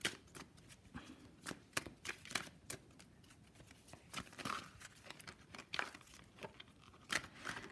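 Stiff tarot cards from a thick deck are riffled and shuffled, giving a run of quick crisp snaps and papery flutters at an uneven rhythm, close and moderately loud.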